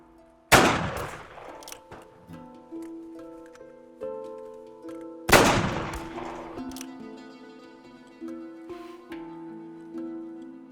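Two loud, close gunshots several seconds apart, each with a long ringing echo and fading tail, followed by fainter metallic clicks and taps.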